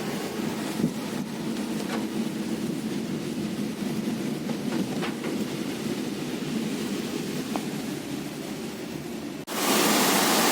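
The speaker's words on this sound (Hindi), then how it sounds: "तो बारिश भी स्टार्ट हो गई है।" Steady rain on the Haldwani–Nainital road during the monsoon, a constant broadband wash close by, with faint scattered ticks and a louder surge of noise near the end.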